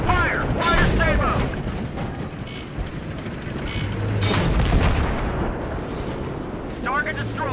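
Tank cannon fire and explosions in Battlefield 3's Thunder Run mission: a deep, booming blast rolls out midway, with lighter impacts around it, under crackling radio voices talking.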